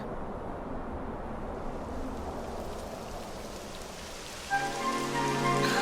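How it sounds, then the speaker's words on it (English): Steady rain falls and patters on surfaces in Dragon Quest XI S, a constant wash of even hiss; a brighter tonal layer joins for the final second. "It would have to go and start raining, wouldn't it?"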